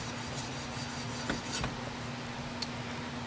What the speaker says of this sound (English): I cut it up into strips and now I'm just sanding it down to remove the solder